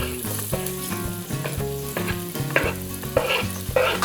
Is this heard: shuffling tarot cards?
no